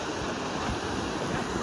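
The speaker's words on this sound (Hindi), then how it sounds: "मेन तो यहीं से एक्सट्रीम गिर रही है नीचे की तरफ" Falling water at Devdari waterfall rushes as a dense, steady broadband roar, loud and continuous, with no voices.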